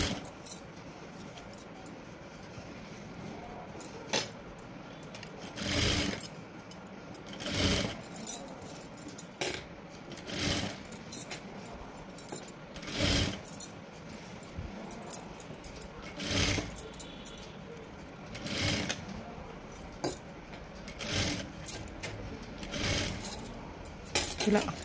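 A sewing machine stitches piping about a presser-foot's width in from the fabric edge, running in short, repeated bursts with pauses between them, close and fairly clear.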